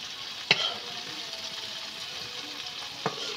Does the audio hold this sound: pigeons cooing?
no